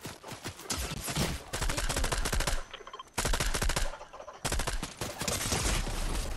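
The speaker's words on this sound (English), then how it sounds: "Oh, they are firing from both sides." Heavy automatic gunfire from several directions in a Fortnite squad match rattles in long, dense bursts with short gaps between volleys, loud and close throughout.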